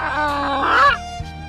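A chicken clucks and squawks loudly and close by for about a second, then goes quiet apart from a short low sound.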